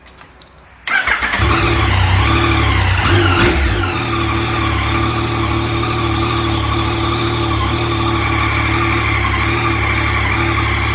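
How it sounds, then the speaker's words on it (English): A 2019 Yamaha Tracer 900 GT motorcycle engine cranks briefly then fires up, settling into a loud, steady close-up idle that holds for the rest of the stretch. "There we go, we've got ignition."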